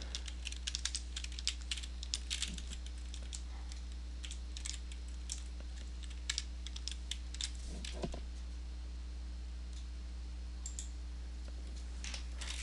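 Computer keyboard typing a search into a web browser, close irregular clusters of crisp key clicks over a low steady electrical hum.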